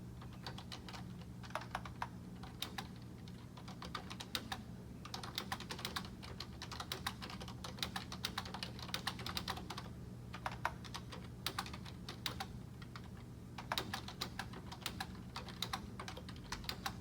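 Typing on a computer keyboard during an online class, with steady quick key clicks, some short pauses, and a low hum underneath, close and moderately quiet, with no talking.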